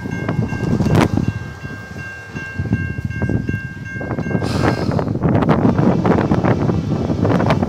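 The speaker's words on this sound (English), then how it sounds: "We got a train coming." A Canadian National freight train rumbles past a crossing in Effingham, Illinois, with rhythmic clanking of wheels over rail joints, a steady loud roar, and gusts of wind noise on the microphone.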